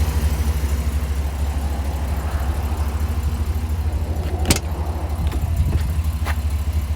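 A Chevrolet 3500 dually truck with a crane body and a 6.0 gasoline engine idles nearby, a steady low rumble with a few faint clicks and ticks on top, no talking.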